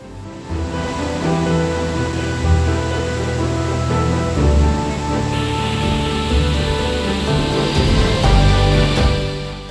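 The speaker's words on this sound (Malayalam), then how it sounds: "മഴ നോൺ സ്റ്റോപ്പായിട്ട് പെയ്തുകൊണ്ടേയിരിക്കുകയാണ്" Continuous hiss of heavy monsoon rain falling nonstop at a waterfall, a dense, steady wash of water noise that brightens midway as the downpour seems to intensify, close and loud throughout with no talking.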